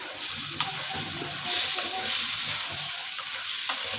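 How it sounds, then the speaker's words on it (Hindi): Boiled chana dal frying with spices in a kadhai on high flame makes a continuous close sizzle with occasional stirring knocks and brief hissing swells, and no one talks. "अब हम इसमें ये बॉईल की हुई दाल ऐड कर देंगे और इसे मसाले के साथ अच्छी तरह भूनेंगे।"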